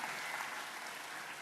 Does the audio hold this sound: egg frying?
no